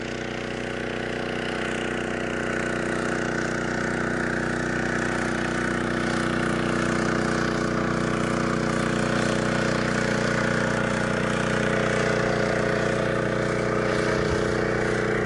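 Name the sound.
motorboat engine on a river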